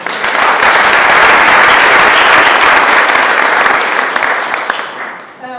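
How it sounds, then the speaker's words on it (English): A lecture audience gives a big round of applause, loud and dense from the start, then thinning out and fading toward the end. "I think we need to give another big round of applause to them."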